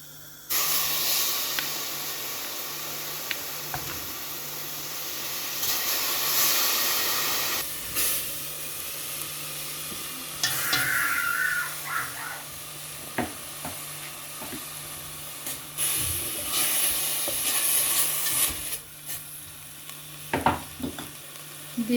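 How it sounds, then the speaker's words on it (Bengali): Blended spice paste hitting a hot pan for a beef and chicken ragù, a loud steady sizzling hiss that swells and eases over time, with occasional stirring scrapes and clinks close by. "এখানে আমি ব্লেন্ডার করে নিয়েছি মশলা পেস্টটা, ওটা প্রথমে দিয়ে দিব"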